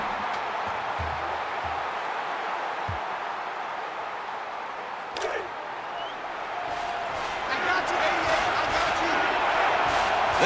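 Steady roar of a packed stadium crowd cheering at a Notre Dame vs Alabama college football game in NCAA Football 14, a broad continuous wash that swells louder toward the end.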